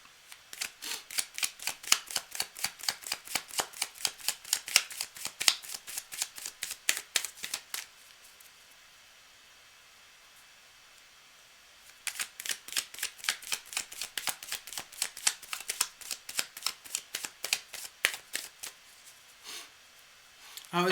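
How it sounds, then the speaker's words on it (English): Tarot cards are shuffled in rapid riffling bursts, close and crisp, with a quiet pause in the middle before the shuffling resumes. "while I was shuffling there, Blanca,"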